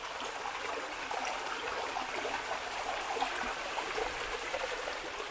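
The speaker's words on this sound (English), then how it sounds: "And the water just flows on by" Creek water rushing through rapids after a winter storm, a steady broadband hiss and gurgle, moderately faint and continuous with no voices.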